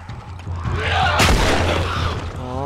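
A single heavy gunshot booms out in The Last of Us, a sharp close blast near the middle that rings and fades over a rumbling game background.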